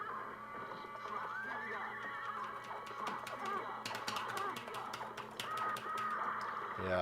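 Horses neigh and whinny repeatedly in the Rastan Saga 3: Warrior Blade arcade game, with bursts of clattering game effects and music underneath.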